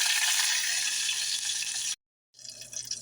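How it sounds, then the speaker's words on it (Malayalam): Two dried red chillies frying in coconut oil after mustard seeds, for a Kerala mango curry tempering. A loud, dense hissing sizzle runs steadily, cuts out for a moment, then resumes. "കടുക് പൊട്ടിയതിന് ശേഷം നമുക്ക് 2 വറ്റൽമുളക് അതിലോട്ട് ചേർത്ത് കൊടുക്കാം"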